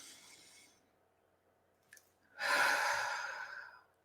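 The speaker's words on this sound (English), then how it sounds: "take one more deep breath with me" One slow, deep breath, with a soft inhale followed by a louder, airy exhale lasting about a second and a half, close and otherwise quiet.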